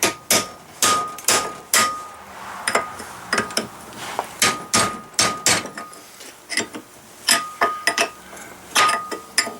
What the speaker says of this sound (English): I might have to kind of hit and walk it right out of there.